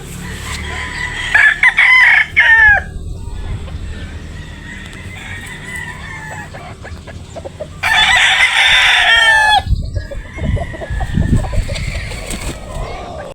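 Gilmore gamefowl roosters crow loudly twice, close by, between stretches of softer clucking and pen noise from the flock.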